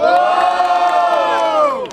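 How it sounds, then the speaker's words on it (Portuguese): An audience at a second-round rap battle in Brazil erupts in loud cheering and battle-cry shouts for the other contestant, a dense, continuous crowd roar that holds steady before tapering slightly at the end. "quem gostou das rimas do Iori faz muito barulho!"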